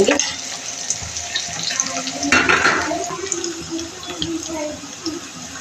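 Chopped onions fry in a pan for a potato and green bean curry, a soft continuous sizzle with stirring scrapes close by, and a voice speaking intermittently underneath.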